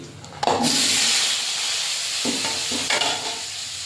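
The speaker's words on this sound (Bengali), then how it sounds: "আলুগুলো একটু ভেজে নেব লবণ হলুদ দিয়ে" Potatoes fry in hot oil in a kadai with salt and turmeric, giving a sudden loud sizzle that settles into a steady hiss, with a few stirring scrapes and no talk.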